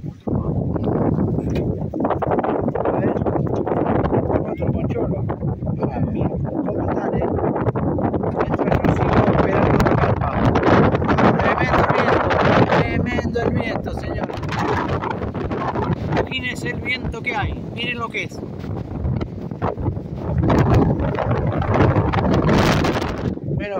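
Strong wind battering the microphone on a river-island pier during a fishing trip, a loud, continuous roaring buffet that swells and gusts throughout, with voices talking faintly underneath.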